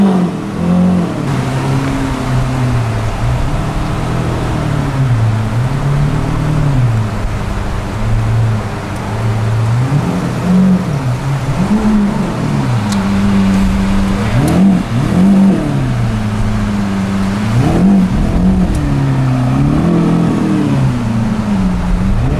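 A Dodge Avenger sports car parked in a city street revs its engine, a loud, close, continuous growl that swells and dips through repeated throttle blips with no talk over it.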